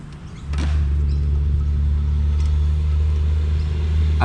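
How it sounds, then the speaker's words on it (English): A truck passing close by on a road, a low engine rumble that swells in after half a second and holds steady and loud. "As a truck goes past."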